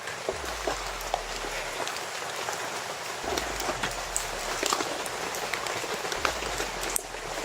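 Steady rain falls and patters on a surface, with scattered louder drops and a low rumble coming and going underneath.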